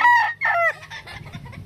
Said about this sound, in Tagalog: Ito po yung sample ng broodcock na sinasabi ko na pogi.